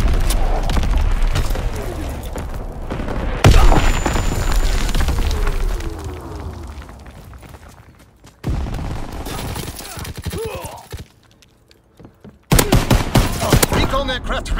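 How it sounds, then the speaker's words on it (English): Heavy naval guns of a primary battery fire in a war video game: booming blasts and rumbling barrages that come in bursts, one sharp loud crack near the middle, with dropouts between salvos and an automated voice in the background. "Firing primary battery."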